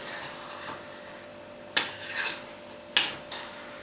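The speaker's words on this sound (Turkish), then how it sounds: "Ben onun için karıştırıyorum sürekli dibine tutmasın diye" A spoon scrapes and rubs around the bottom of a pot of Knorr mac and cheese, with two sharper scraping strokes standing out among softer stirring sounds, close and moderately quiet with no talking.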